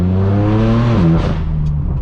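A straight-piped BMW M4 F82 drives through Hollywood, its engine revving loudly and rising in pitch before dropping sharply as the dual-clutch transmission snaps through an upshift, then climbing again.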